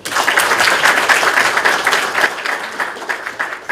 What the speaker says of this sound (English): Can we clap for the graduates?